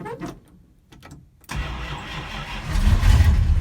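A Dodge Coronet engine cranks and catches, settling into a rumbling idle that builds slightly louder, following a few faint clicks and knocks in a garage.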